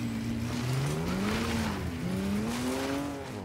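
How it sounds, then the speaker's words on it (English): A truck in the Mafia 3 video game drives off with a steady engine hum whose pitch rises and dips as it speeds up, sitting fairly quiet under a broad whooshing background. "Oh, I like this truck, sounds good."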